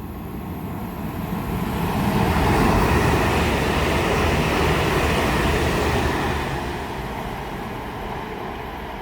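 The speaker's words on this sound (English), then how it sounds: "passing through now should be a pair of London North Western Railway Class 350s from Crewe to London Euston" A pair of London Northwestern Railway Class 350 trains runs through Tring on the West Coast Main Line, bound from Crewe to London Euston: a loud, steady rolling rumble swells over a few seconds, holds, then eases back, with no voices.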